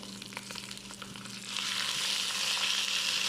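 Soaked, washed Egyptian rice tipped onto vermicelli browning in hot fat in a pan; a steady sizzle swells suddenly louder and brighter as the rice lands and keeps frying close up.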